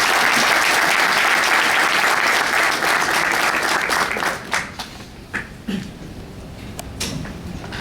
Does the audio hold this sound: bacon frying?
no